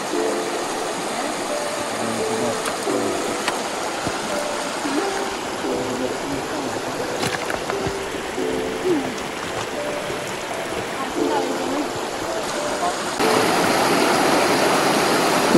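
Steady rushing of flowing river water on Spitsbergen fills the scene, with a faint engine-like hum and scattered knocks beneath it, growing slightly louder near the end.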